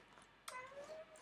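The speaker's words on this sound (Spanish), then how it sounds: "¿Qué le pasa a mi gato?" A house cat gives a single drawn-out meow, fairly close and moderately loud, rising then sliding lower, heard on its own over a faint room hum.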